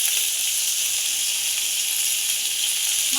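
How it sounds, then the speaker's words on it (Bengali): Bitter gourd frying in oil in a black iron wok, a steady loud hissing sizzle close by that runs without a break and with no talking. "বসিয়ে দিয়েছি উচ্ছে ভাজা"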